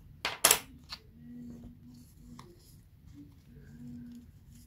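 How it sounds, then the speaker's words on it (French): Paper being creased into a fold for a small handmade notepad: a couple of sharp close taps and presses at the start, then soft faint rubbing and shuffling over a low steady background hum. "je vais me mettre à l'envers et je vais marquer mon pli"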